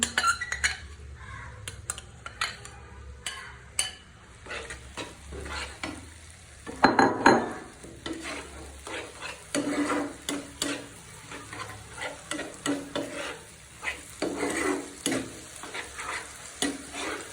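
Mashed eggplant stirred and fried in a pan: steady sizzling with repeated scraping and clinking of a spoon against the metal, close and continuous in an irregular stirring rhythm.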